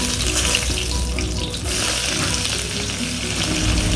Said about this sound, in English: After heating oil, put some celery seeds. This is for exactly Nepali taste. Then put bay leaves.